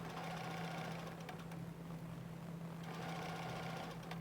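A sewing machine runs a continuous satin stitch around a quilt block appliqué, giving a steady, fast, even hum with a fine rapid needle rattle, faint and close, uninterrupted by talk.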